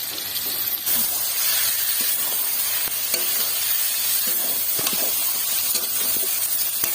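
Sour yogurt going into chicken frying in a pan for a spicy chicken kosha, with a steady loud sizzle and hiss and occasional stirring scrapes throughout.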